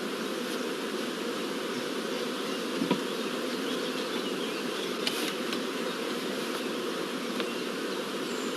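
Honey bees swarming around a beehive comb: a steady, dense buzzing hum from many insects, constant and moderately loud throughout, with an occasional closer bee passing by and no speech.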